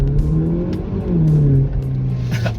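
A Haval H6 GT with a loud aftermarket exhaust revs hard, its engine note climbing and dropping in strong rising sweeps, loud and close, with no one talking.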